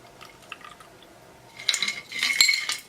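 A White Lady gin cocktail poured from a shaker into a cocktail glass: a quiet start with faint clinks, then a close, bright splashing stream of liquid building over the last second or so.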